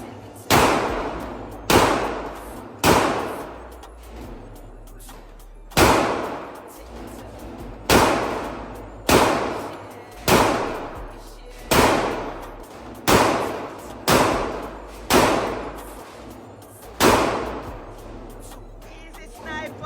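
Sniper rifle shots at an outdoor shooting range, about a dozen loud, sharp cracks spaced a second or two apart, each with a short ringing decay and no talk between them.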